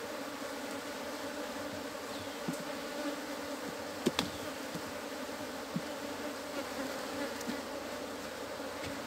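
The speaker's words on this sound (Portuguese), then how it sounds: "É um enxame bem populoso, ó." A populous swarm of Apis honey bees clings to comb, filling the air with a dense, continuous buzzing drone, joined by a few brief clicks of comb being handled.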